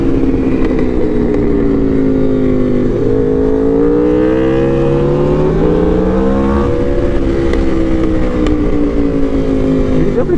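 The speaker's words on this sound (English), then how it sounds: "It's nice to see somebody else with an RSV4 out here going fast." A brand-new Aprilia RSV4 Factory motorcycle runs fast on damp roads at The Dragon, its loud, close engine droning continuously with a pitch that rises and falls through gear changes and throttle.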